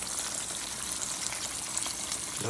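Pork chops frying in a pan, a dense, continuous crackling sizzle heard up close without interruption and no talking over it.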